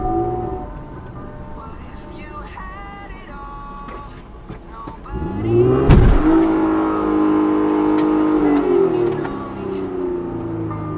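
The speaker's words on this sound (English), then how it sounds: "That's why you hear the two different tones of the engine, of the exhaust, the engine and exhaust combination" A Ford car's engine and exhaust rev, building to a loud surge with two distinct tones before the transmission blows; the engine keeps droning afterward.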